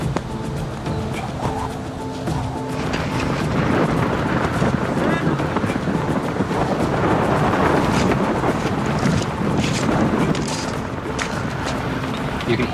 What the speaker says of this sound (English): You can hear the roar of the wind and the gravel being brought towards you.